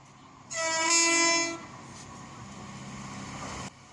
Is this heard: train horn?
yes